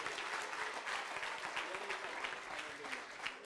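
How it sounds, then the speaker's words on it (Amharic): A church congregation claps during a prophetic worship service, a dense, continuous patter of hands that stays fairly faint and even across the short stretch, with voices mingling underneath. "አጨብጭቡ እስቲ ለጌታ"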